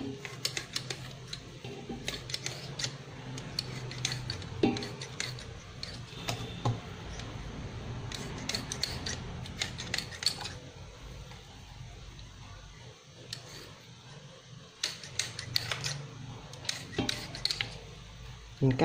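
Chicken and pork stomach are cut by hand into small square pieces, giving irregular sharp taps and clicks of a blade against a board, moderately close, with faint background sound between the cuts.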